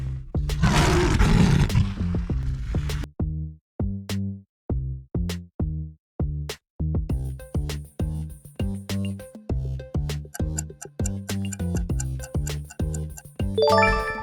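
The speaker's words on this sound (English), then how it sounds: "The answer is lion." A lion gives one loud, rough roar at the start, followed by a long run of steady, evenly spaced clock-like ticks.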